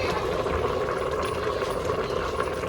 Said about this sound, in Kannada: ಇವಾಗ ನೀರು ಕುದಿ ಬರ್ತಾ ಇದೆ.